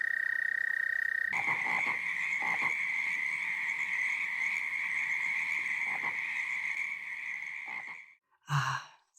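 Toads at a night pond hold a long, steady high trill, joined by overlapping calls from several others, before it stops abruptly and a short final burst follows.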